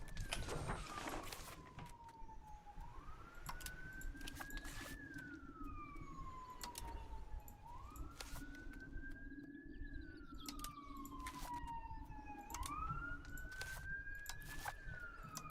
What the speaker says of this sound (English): It's the second ambulance for the stream.